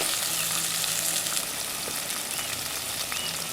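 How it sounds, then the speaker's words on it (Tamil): Onions, green chilies and garlic frying in oil for a Tamil fish curry with mango, giving a steady, dense sizzle with crackling pops, close and continuous throughout. "வெங்காயம், பச்சை மிளகாய், உள்ளி மூன்றும் நல்லா பொன்னிறமாக வதங்கி வர அளவுக்கு எண்ணெயிலேயே வதக்கி எடுக்கணும்."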